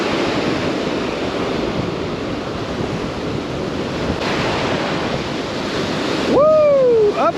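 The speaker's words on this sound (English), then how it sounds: "It's way too windy for this" Steady wind roars and buffets the microphone on a beach along with rushing surf, continuous and loud, and a sharp whistle-like sweep comes near the end.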